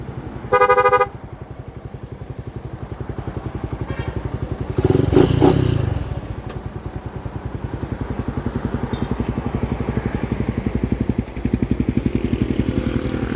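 A motorcycle idles steadily with a thumping engine rhythm, broken by a short loud horn blast early and a clattering burst midway.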